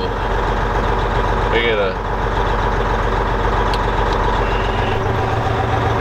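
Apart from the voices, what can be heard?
truck engine running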